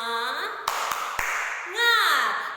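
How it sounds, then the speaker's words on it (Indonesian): Children in a classroom do a rhythmic spirit clap, three sharp, close hand claps spaced between their loud chanted voices. "Tepuk semangat."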